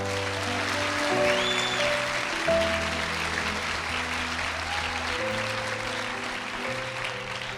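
A church congregation applauds in sustained, dense clapping while sustained organ or keyboard tones play underneath.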